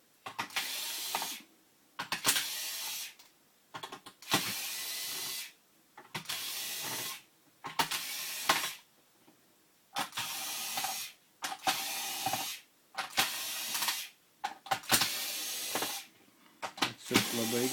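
A CLF 6500XH screw machine quickly unscrews screws in about eleven short, whirring ratchet-like bursts, each roughly a second long, separated by brief silent gaps, heard close and clear.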